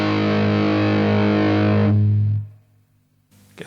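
Electric guitar through a Zander Circuitry Siva distortion pedal, a thick buzzing sustained chord held close and loud while the tone control is turned, then cut off into near silence with a faint pluck at the end.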